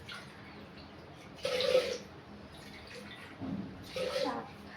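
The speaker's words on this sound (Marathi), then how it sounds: "आता इथे मी पाणी टाकून घेते" Water poured into a cooking pot for khichdi, in two short splashing bursts a couple of seconds apart, fairly close, with a low background hum between them.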